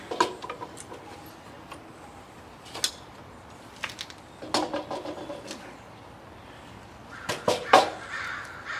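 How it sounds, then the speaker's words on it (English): Crows caw in scattered bursts outdoors while a PVC flat bow is being shaped, the calls moderately distant and irregular, clustering near the end over a quiet background. "I've still got to get used to crows."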